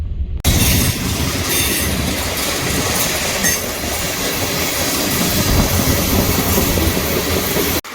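A train roars very close and loud overhead on a crossing above a creek, a steady rumbling clatter of wheels on rails with hints of metallic squeal, continuous throughout.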